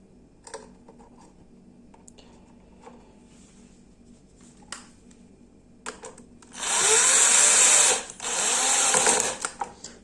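Power screwdriver driving screws into a Bifinett KH 700 food processor during repair, heard as two loud, steady whirring bursts near the end after quieter handling clicks.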